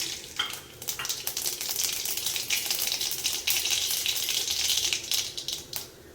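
Mustard seeds tipped into hot oil, sputtering with rapid crackling pops over a bright sizzle, dense and close and fading toward the end, with no voices.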